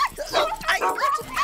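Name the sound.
cartoon dog barking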